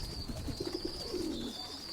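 Pigeon chicks squeak faintly during feeding in a breeding loft, a few short soft peeps over low cooing and a steady background hiss.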